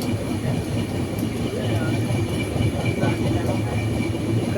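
A passenger train running on tracks toward Prayagraj and Varanasi during the Kumbh Mela, its steady rumble and rattle continuous throughout, with voices faintly in the background.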